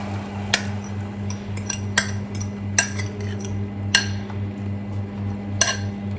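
Scrambled eggs stirred constantly in a pan, a utensil clinking against the metal in irregular sharp taps over a steady low hum, close and fairly quiet, with no talk.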